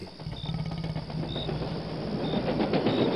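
A train rumbles through a tunnel, heard as a continuous low roar with faint rhythmic clatter, growing slightly louder toward the end.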